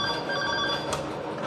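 A telephone rings steadily against a busy, noisy background with a dense hum of activity, the tone sustained and loud throughout the short stretch.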